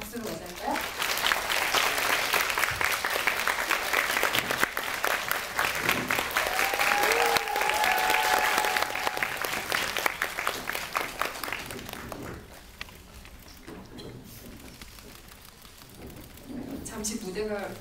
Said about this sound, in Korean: 큰 박수로 맞이할까요?